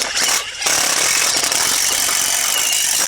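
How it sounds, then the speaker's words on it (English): A power drill driving a self-drilling screw into a fence brace whines loudly and continuously, briefly pausing near the start before resuming a steady, high-pitched grinding drive. "we'll let Junior here put a screw right in"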